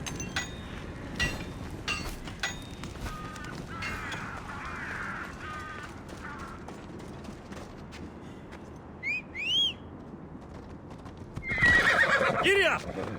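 A horse in the video game Assassin's Creed Odyssey gallops with steady clip-clop hoofbeats, whinnies loudly near the end, and crows caw in the background while a voice speaks over it.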